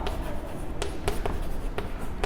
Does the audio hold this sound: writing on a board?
yes